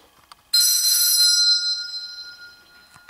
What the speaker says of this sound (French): Mais soudain, une sonnerie retentit.